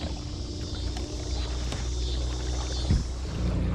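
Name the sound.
Watersnake 24lb thrust trolling motor driving kayak upriver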